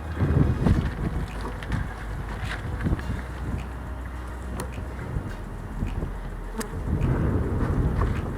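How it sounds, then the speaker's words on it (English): Honeybee buzzing among freshly planted garden plants outdoors, a steady insect drone under light wind noise with a few brief louder passes near the microphone. "We already have a honeybee taking a rest stop."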